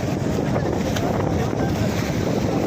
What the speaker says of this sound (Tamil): காற்று நல்லா காற்றுருக்கு